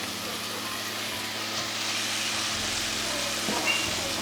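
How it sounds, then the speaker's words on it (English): Minced garlic lands in a hot pan and sets off a soft, steady sizzle that hisses evenly throughout and stays fairly quiet and close. "we're gonna add in about 2 tablespoons of garlic, minced garlic"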